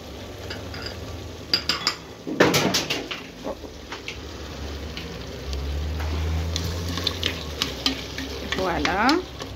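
Cream and cut cheese stirred into potatoes and grilled peppers frying in a pan, with a soft background sizzle, scraping utensil strokes against the pan and a few sharp clinks and knocks.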